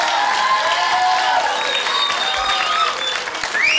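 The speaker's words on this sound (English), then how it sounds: "Give them a round of applause." A studio audience at a dating game show applauds loudly and continuously, dense clapping with a few cheers and whistles mixed in, sustained for several seconds.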